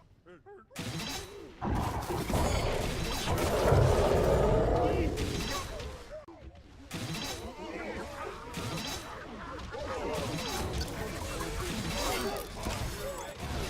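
In the video game Orcs Must Die Unchained, an unstable rift is destroyed in a burst of loud crashing, smashing impacts and rumbling blasts that sustain for several seconds over ongoing game sounds.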